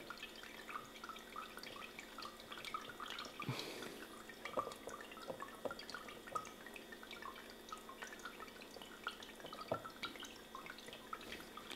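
Small Christmas village model fountain with water trickling from its simulated pipes, a faint, continuous patter of tiny drips and splashes close by, with no talking.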